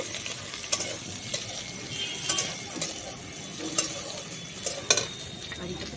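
Curry leaves and onion fry in a pan with a steady medium sizzle, broken by regular scraping stirs of a spatula, close up and with no talking.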